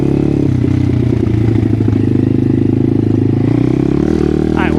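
An X Pro 150 motorcycle on a quick dirt ride, its engine droning loud and close throughout with rattling clatter from the bike over the rough ground.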